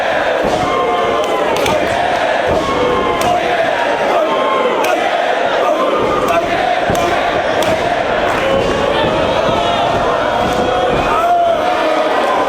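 A large wrestling arena crowd roars and chants continuously during a match between Punk and Daniels, with loud thuds and slaps from the ring cutting through the cheering.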